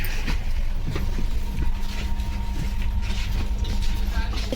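A passenger train rumbles steadily close by, with low rolling noise, faint clicks and a humming tone running throughout, no clear speech over it.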